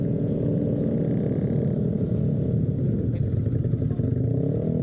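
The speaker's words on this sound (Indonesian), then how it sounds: "Sumpah ini motor gue bunyi banget coy. Bearing kerkasnya parah." A motorcycle with a badly worn bearing runs during a group night ride through Central Java, giving a loud, continuous low engine drone with rattly clatter throughout.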